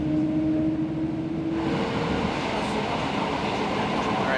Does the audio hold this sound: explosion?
no